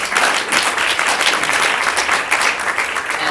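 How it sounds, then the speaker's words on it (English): An audience at a Livestrong Foundation panel event gives a quick round of applause, a dense, even wash of many hands clapping at once that holds steady throughout. "Quick round of applause for them for being here."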